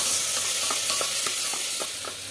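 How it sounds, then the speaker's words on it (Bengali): A spoon stirs chicken soup ingredients with pepper powder in a pan, giving a series of soft scraping strokes over a faint sizzle, close and fairly quiet. "গোলমরিচ পাউডার দেব। দিয়ে খুব ভালো করে মিশিয়ে নেব।"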